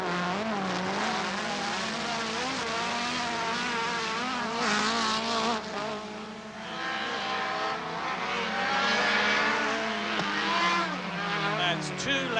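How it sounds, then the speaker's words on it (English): Rallycross cars racing at the 1980 British Rallycross Championship Finals, a Ford Escort and a Mini among them: engines rising and falling in pitch as they rev and pass, loud and continuous beneath commentary. "with number 34, Alan Eckersley in the Escort, challenging Farrance in the Mini for second place"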